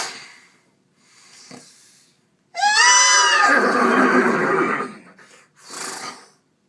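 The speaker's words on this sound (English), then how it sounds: "I've got 3 horses with me now." A horse whinnies loudly and close by in a studio with several horses, one long descending neigh followed by snorting breaths, with quieter breathing sounds before and after.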